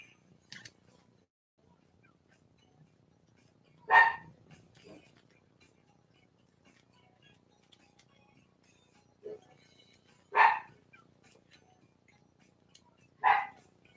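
A dachshund indoors lets out a few sharp, separate barks spaced several seconds apart, moderately close, with quiet background between them.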